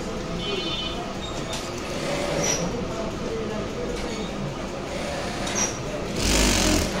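A plain sewing machine runs steadily with a continuous dense whirring rattle, swelling louder near the end.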